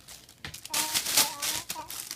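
Plastic bag or vinyl sheet being crumpled and torn by a child, a busy close crinkling and rustling that rises and falls in bursts throughout.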